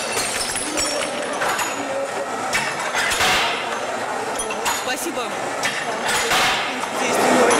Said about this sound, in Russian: Веревка с бутылками двигается, они попадают под молоток,